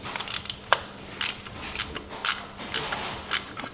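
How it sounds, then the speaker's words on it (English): Sharp clicks and ratcheting snaps from a screw being driven back into a motorcycle, a BMW R1300GSA, during accessory fitting, arriving in an uneven series of short, close bursts with no talk. "Let me just screw that back in."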